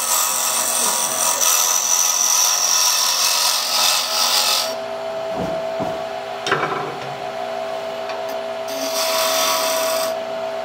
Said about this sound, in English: take the skew and undercut that just a little bit and put a little bit of dovetail on it